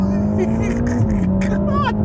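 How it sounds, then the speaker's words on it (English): A Ferrari Roma with a twin-turbo V8 accelerates hard, its engine note rising steadily and loud and close, with a quick shift-like dip partway through. "when you decide to put your foot down a little more and the turbos spool up and the V8 says, you want to see what I can really do"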